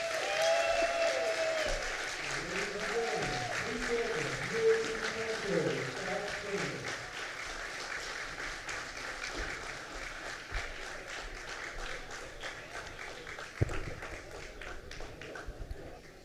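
Audience applause for Governor Cuomo at the Johnson Community Center, a steady broadband patter that fills the room throughout, with a voice talking over it during the first seconds.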